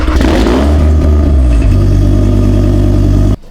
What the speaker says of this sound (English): the car makes a din when you start it up